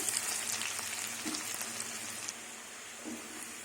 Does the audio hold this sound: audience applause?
no